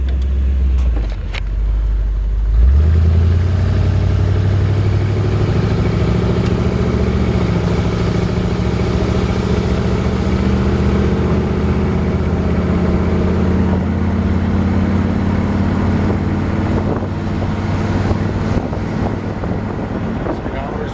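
A 1962 Ford Galaxie Sunliner's engine idles steadily and close, with a low, continuous rumble that holds from start to finish, broken only by a brief jolt near the beginning and a little wind buffeting.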